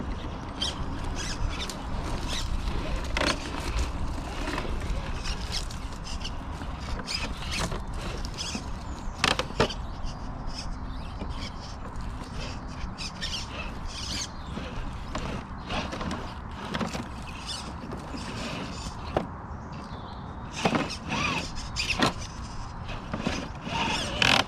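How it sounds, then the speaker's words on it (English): The faulty gearbox of a Gmade RC car, a continuous grinding, clicking whir with creaks and rattles, close up and fairly loud for the full length, with no talk. "There it is, that's definitely the gearbox."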